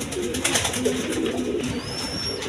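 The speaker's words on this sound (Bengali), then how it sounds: "খুব সুন্দর কবুতর।" Pigeons coo in a cage, with several low, close coos repeating over a busy background and a thin high tone sliding through toward the end.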